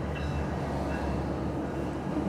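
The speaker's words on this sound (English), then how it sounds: "Train passing by." A train passes by outside a car, a steady broad rumble with faint high squeals, continuous and moderately loud throughout.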